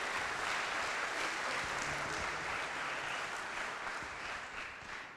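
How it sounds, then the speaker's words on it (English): Sustained audience applause at a talk on Australian gas, a dense steady clatter of many hands lasting several seconds and fading slightly near the end. "Everyone, another round of applause, please,"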